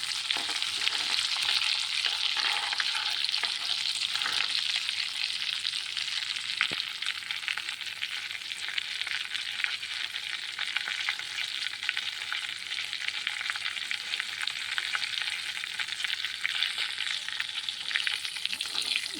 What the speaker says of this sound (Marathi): तेल गरम झालेलं आहे. याच्यामध्ये मी आता विलायची पूड, काजू बदामचा भुकटा हे टाकणार आहे.